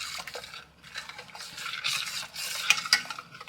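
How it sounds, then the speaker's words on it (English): Stirring a heated, melted mixture in a pot, a steady scraping and swishing that comes and goes in soft strokes, close and moderately quiet, with a couple of sharper clicks near the end; no one speaks. "it's already heated, so all I need to do is give it a stir"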